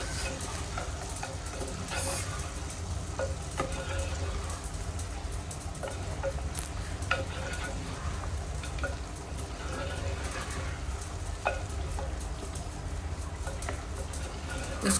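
Chicken masala with ground coriander fries and is stirred in a pot, a steady dense sizzle with occasional scrapes and clinks, constant and moderately loud throughout.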